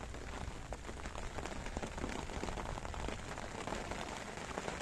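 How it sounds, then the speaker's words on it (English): Steady rain pattering on a surface during Storm Barra, a dense even hiss with scattered drop hits, fairly faint and continuous without pause. "It's windy, it's raining."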